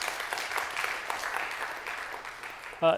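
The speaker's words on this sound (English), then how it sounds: "Please give Spencer a round of applause." An audience at a pitch event gives a short round of applause, soft and fairly distant, fading out before a voice begins speaking at the very end.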